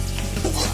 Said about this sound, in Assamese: এয়া চাওঁ, ৰঙচুৱা হোৱালৈকে মই ভাজি আছোঁ।